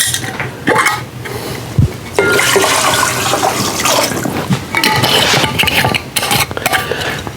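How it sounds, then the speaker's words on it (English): 100 proof moonshine poured into a peach pie mixture, a loud, steady splashing gush of liquid that runs for several seconds with brief breaks. "I want to go ahead and add in my shine. This is 100 proof shine."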